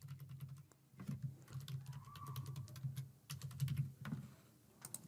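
Test card details are typed on a computer keyboard, with quick, close key clicks in uneven bursts and short pauses between them. No one speaks.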